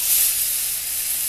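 Shrimp for lettuce wraps sizzle in a hot pan as a short, steady, bright hiss, close and without talk.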